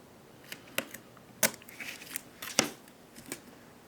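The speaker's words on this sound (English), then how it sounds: "I think I can use this to tear my washi" Washi tape tears off in a few short, sharp crisp rips, spaced out amid quieter crinkling and handling of tape and paper during planner setup, close and fairly faint.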